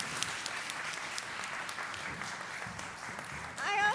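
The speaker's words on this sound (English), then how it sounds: "Please give them a big round of applause." An audience at a food summit panel at SXSW claps steadily for the panelists, a dense, even round of applause, and a voice begins speaking over it near the end.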